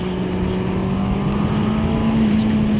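A 2026 Honda CB650R with E-Clutch running while being ridden, a loud, steady engine drone with a constant rushing wind roar and a slowly rising pitch toward the end.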